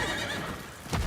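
A horse in the video game Diablo 4 gives a short, loud neigh with a hint of hoofbeats, heard alone and up close.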